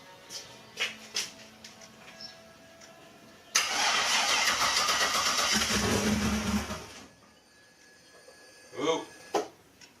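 A Volvo engine converted to E85 and running an 80-pound injector map cranks in one loud, continuous burst of about three seconds, then cuts off abruptly, with quieter shop noise before and after.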